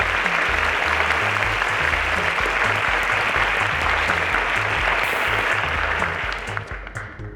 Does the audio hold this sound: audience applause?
yes